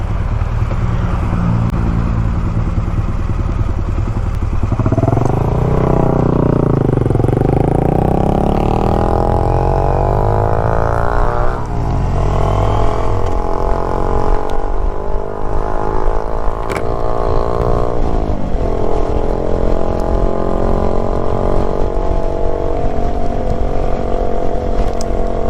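A motorcycle pulls away during CBT rider training, its engine rising in pitch through gear changes and then settling to a steady ride, loud and close, with wind noise and no voices.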